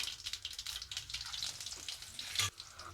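Curry leaves dropped into hot oil with popped mustard seeds crackle and sputter in a busy, close sizzle, with a brief louder burst of spattering near the end.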